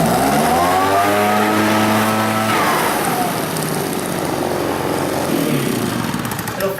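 A small two-stroke engine, the kind found on weed eaters, trimmers and augers, catches and runs close by with a loud buzzing drone and a rising rev that settles into a rough idle.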